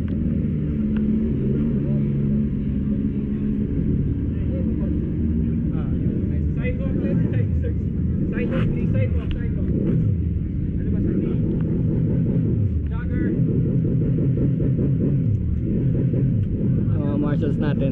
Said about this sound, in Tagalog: Oh, that's the sound of Ebi Agusta inline 3.